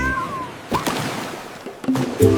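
A small cat meows once or twice in short, light calls over faint background noise, with a few brief knocks and bumps nearby.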